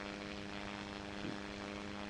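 A propeller airplane engine in a flight video game drones steadily with a layered tonal hum, holding an even pitch and level throughout with a faint swell midway.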